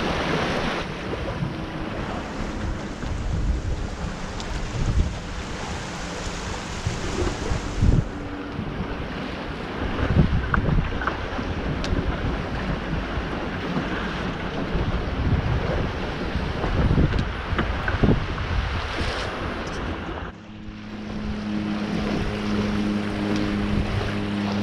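A sailing dinghy cruises open water past Redhead on a trip to Broughton Island. Wind buffets loudly and water rushes steadily against the hull throughout, easing slightly near the end.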